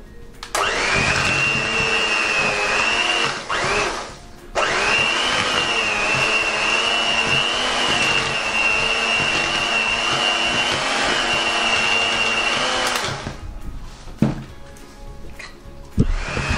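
Electric mixer whirring steadily through muffin batter for blueberry and cherry muffins, a loud sustained motor tone that cuts out briefly, resumes for several seconds, then stops, leaving scattered bowl clatter.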